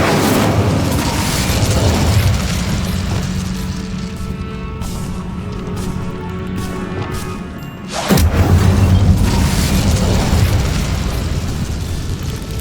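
Fiery spell effects from the Hogwarts Legacy video game, a dense, roaring burst of flame-like rumble that sustains, dips, then surges again with a second heavy whoosh, loud and continuous with no talking.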